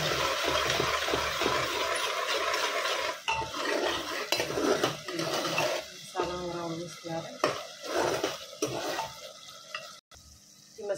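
Garam masala and amchur powder are stirred into sizzling rajma masala in a pan, with spoon scraping and clinking against the pot over a frying hiss, loud at first and then broken into intermittent strokes.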